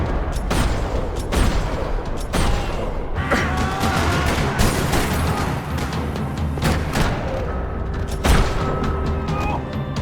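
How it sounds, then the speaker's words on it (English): Sustained gunfire fills a parking lot shootout in the video game Max Payne 3, loud and continuous bursts with booming impacts and mechanical clatter over a dense background, peaking again near the end. "Another parking lot rattling with gunfire."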